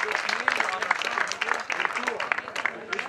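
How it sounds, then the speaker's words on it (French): Audience applause greets the second-place rider at the 46th Prix Gilbert Bousquet cycling race, a steady dense patter of clapping mixed with an announcer's voice talking over it throughout. "Vos applaudissements, Maxime Kam."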